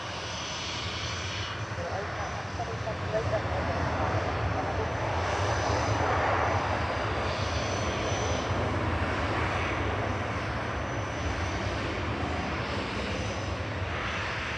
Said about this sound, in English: 787-10 of Etihad that's at the turning circle at the bottom of 23 left.